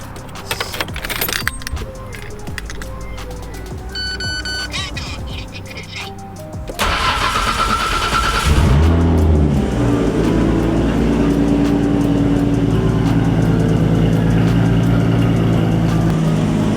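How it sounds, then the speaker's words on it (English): A Nissan Skyline R34 GT-R starts after some keys jangle and clicks, then settles into a steady, loud idle close by. "Might have to start the car."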